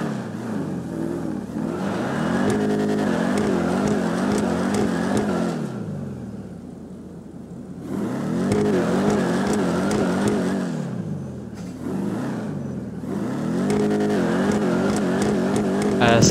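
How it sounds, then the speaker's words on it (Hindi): A car engine in GTA 5 revving hard as the car pulls a wheelie: three long, loud rising and falling roars separated by brief lulls, with someone talking over it. "ये गाड़ी आगे से व्हीली मार रही है"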